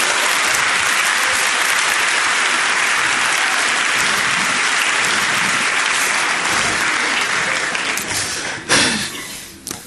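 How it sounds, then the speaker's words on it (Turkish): Audience applause at a Turkish stand-up comedy show, dense steady clapping from a large crowd that continues loudly for most of the stretch before fading and breaking up near the end. "Ha, size miydi alkış?"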